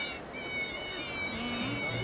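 A cat meowing in the video game Yakuza 0, a drawn-out plaintive meow heard briefly over game ambience, with a person talking nearby.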